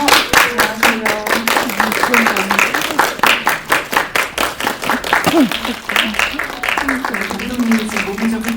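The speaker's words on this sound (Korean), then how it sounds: "여러분 큰 박수로 맞아주십시오." An audience at a Korean film press screening claps for the director and actors coming onstage: loud, close, distinct individual hand claps forming lively applause, with talk underneath.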